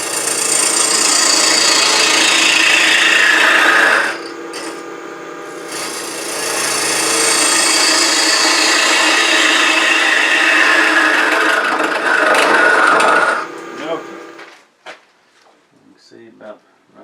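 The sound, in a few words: wide parting tool truing up wood on a lathe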